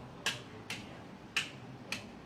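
A light switch clicks four times as a fan is switched on and off, sharp, faint, evenly spaced clicks against a quiet room hum.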